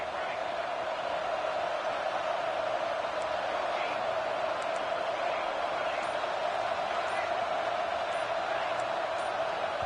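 A football stadium crowd roars steadily in a loud, unbroken wash of voices, sustained throughout while the home fans rattle the offense into a false start; a broadcaster's voice is faintly mixed in.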